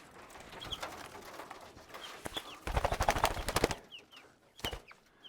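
Crossbred white and dark male Coturnix quail call close by, with sharp chirps and a short burst of rapid, rasping crowing over quiet background rustling.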